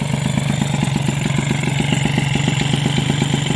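Peugeot 103 SPX moped engine running at a steady idle, a close, rapid and even putter with a clattery edge that continues without a break, no talking.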